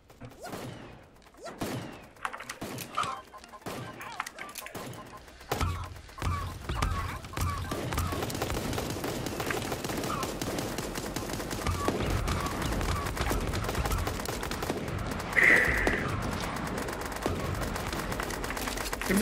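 Gunfire in the video game Super Animal, a handful of sharp separate shots at first, then dense, steady automatic fire that builds into a continuous loud barrage, with no talking.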